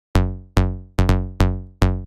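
Trance bassline built in Ableton and processed with multiband dynamics: six bright, plucky notes in an offbeat rhythm, each with a sharp attack and a short decaying tail, loud and alone with no voice.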